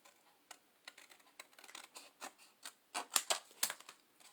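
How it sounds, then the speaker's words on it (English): Scissors snipping around a shape in patterned scrapbooking paper for a Halloween envelope embellishment, a quick run of short crisp clicks that grows a little louder and busier near the end, close and alone. "And then we're going to go and cut this one around."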